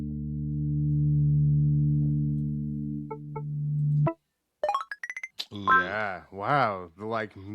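Pure sine tones in a pitch-matching sound game: a steady low tone holds for about four seconds, two soft blips follow, then a quick series of rising and falling tones runs under people talking.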